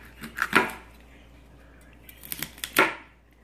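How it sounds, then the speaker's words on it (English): Knife chopping celery stalks into pieces on a board, a few crisp cutting clicks near the start and again near the end with a quiet pause between, close and moderately loud. "What I like to do is I just cut them in pieces like this."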